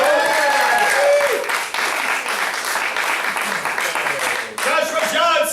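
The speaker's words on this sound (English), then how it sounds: "Give her a right cheer, go." A Florida martial arts center audience applauds and cheers for a student at a yellow belt ceremony, with steady loud clapping and whoops that pause briefly near the end and then surge again, mixed with a few voices.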